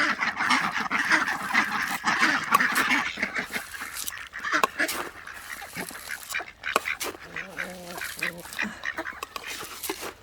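Ducks quack and honk steadily over noisy outdoor ambience, a busy cluster of fowl calls continuing throughout at moderate volume.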